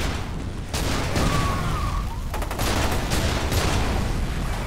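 Sustained gunfire in the video game FEAR 2, a dense close barrage of rapid shots with heavy booming impacts that runs almost unbroken throughout.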